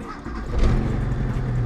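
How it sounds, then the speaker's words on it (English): Track project car engine cold starting, a brief crank followed by the engine catching and settling into a steady, rough low rumble nearby. "do a quick cold start"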